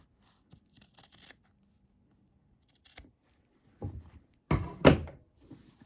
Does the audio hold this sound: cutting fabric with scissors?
yes